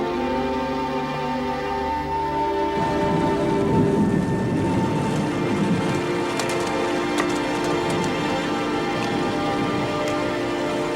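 Steady rain falls with low rumbling thunder in a port where work on a ship is held up. The downpour thickens after a few seconds into a dense, continuous hiss, with scattered sharp drops and no talking.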